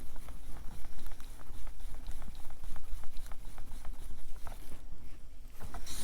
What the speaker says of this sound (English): Set it aside, and I'm going to mix that in